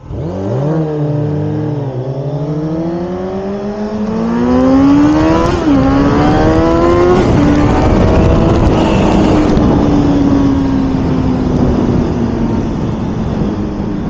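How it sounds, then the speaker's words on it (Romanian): A motorcycle fitted with an MIV aftermarket exhaust revs loud and close while riding through city traffic, its engine tone climbing through gear changes over steady wind roar, with no talk. "Încerc să captez și sunetul pe care îl are motocicleta lui, are o evacuare MIV și se aude super"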